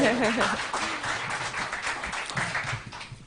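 A crowd at a presidential candidate debate event claps in a steady, moderately loud patter of applause, with a voice audible at the very start.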